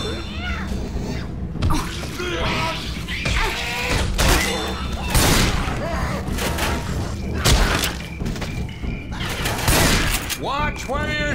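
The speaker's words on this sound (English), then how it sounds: "Watch where you're shooting!" Chaotic Left 4 Dead 2 gameplay with rapid gunfire, booms and thuds overlapping through the whole stretch, loud and dense, mixed with shouting game voices.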